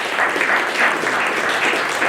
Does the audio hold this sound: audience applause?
yes